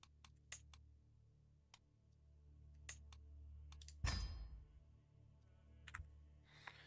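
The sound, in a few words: clicking sounds in a video game menu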